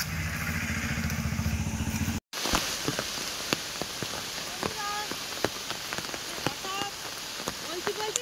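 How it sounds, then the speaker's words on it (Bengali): Monsoon rain falls outdoors near a garden pond, making a steady hiss with scattered sharp drip and splash ticks on nearby surfaces. A brief louder rumble opens the sound before the rain texture continues alone. "বৃষ্টি শুরু হয়ে গেছে, তো জানলে বেরোচ্ছি, ওদিকে বৃষ্টি শুরু।"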